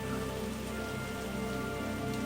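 Rain falls steadily and densely on a surface, forming a constant close patter that goes on without pause and with no voices.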